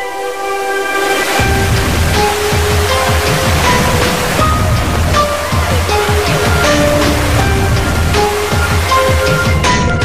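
Sri Getuk waterfall in Gunung Kidul sends up a steady, dense rush of falling water throughout, with music layered over it.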